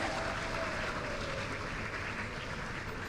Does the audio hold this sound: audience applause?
yes